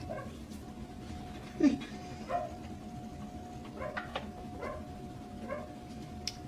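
Several faint, scattered dog barks and yips sound from a distance, spaced irregularly over a steady background hum.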